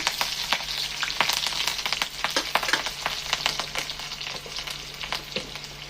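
Steady sizzling of green chilies and garlic frying in hot oil, with crackles and pops scattered throughout, close by and fairly loud.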